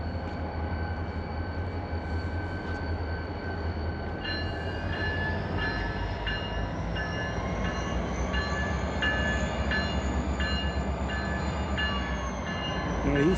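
A freight train switching and backing up at Barstow, California rumbles steadily with a low engine drone and squealing, tonal wheel and brake sounds, plus faint rhythmic clanks as the cars move slowly.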